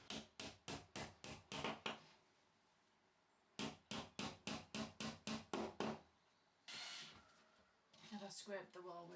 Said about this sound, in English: Knock in the metal inserts.